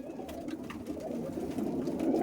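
Female pigeon kept for pigeon flying, cooing softly in low, steady murmuring tones that continue throughout, fairly close with a faint background hum.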